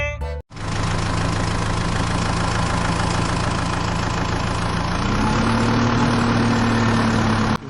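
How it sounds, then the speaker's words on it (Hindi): A tractor pulling a trolley runs continuously at idle, a loud, steady engine rumble with a slight shift in pitch partway through, following a short gap at the start. "अब हम ट्रैक्टर ट्रॉली से चलते हैं।"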